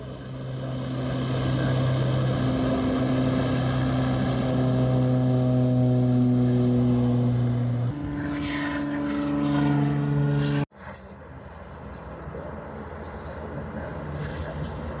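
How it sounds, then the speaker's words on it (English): Propeller aircraft engine drones loudly and steadily at a busy seaplane base on a lake, holding a strong tone before shifting pitch as one plane passes or powers down, ending in a lower continuing engine hum. "Lake Hood Seaplane Base, the largest seaplane airport in the world, with 190 takeoffs and landings a day"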